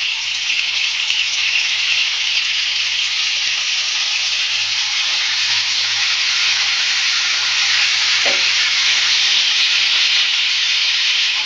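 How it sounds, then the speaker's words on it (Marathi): Paneer pieces roasting in a pan give a continuous broad hiss, even and close, with one brief faint knock partway through and no talk. "आपण आता सगळं पनीर असं भाजून घेणार"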